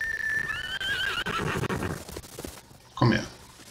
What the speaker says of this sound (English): can I still just ride the horse?